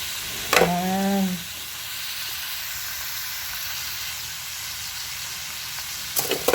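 A hotdog sizzles in hot oil with a constant bubbling hiss, opening with a brief squeaky tonal scrape and ending with a few sharp clicks.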